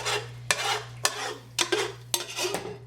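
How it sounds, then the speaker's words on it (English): A utensil stirs pasta in a cooking pot in rhythmic scraping strokes about every half second, close and clear over a low steady hum. "I can't just stir the pasta while you're talking"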